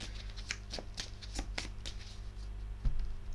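Tarot cards are shuffled by hand during a reading, with soft, close bursts of card riffling and slapping in an irregular rhythm, fairly quiet and without talk.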